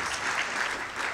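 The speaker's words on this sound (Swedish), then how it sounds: "en stor applåd tänker jag för oss" Audience applause for the speakers at a Botkyrka municipal experience-exchange meeting, a brief, moderate wash of steady clapping with no voices over it.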